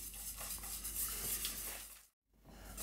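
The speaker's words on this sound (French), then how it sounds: "Et là, je continue de mélanger." Chilled cream for a chocolate Bavarian cake is stirred by hand in a bowl, a faint, close swishing and scraping that cuts off briefly before resuming.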